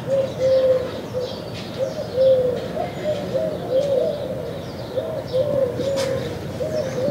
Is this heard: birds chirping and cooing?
yes